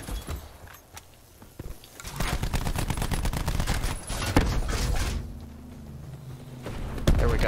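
Rapid bursts of gunfire from Call of Duty Black Ops 4, sharp overlapping shots cracking in quick clusters, with a heavier boom near the end over a constant loud game-action backdrop.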